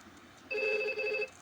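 IP desk phone on a voice VLAN ringing once, a short electronic ring burst of steady tones in a quiet room.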